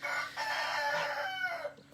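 A rooster crows once, a loud, near cock-a-doodle-doo lasting nearly two seconds, with no talking over it.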